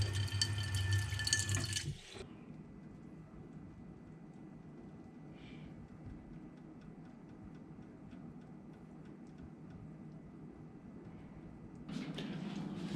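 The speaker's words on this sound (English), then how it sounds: "put some water in it." A brief rush of water poured onto coconut coir at the start, then a quiet stretch of soft trickling and dripping, with another burst of water near the end.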